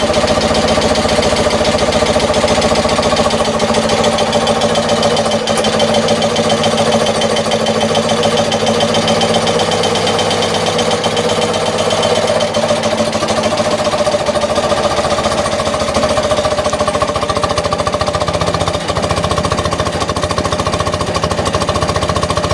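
BMW R90/6 boxer-twin motorcycle engine idling after its first start, a loud, steady, close-up mechanical chug with rapid even pulses throughout and no voices.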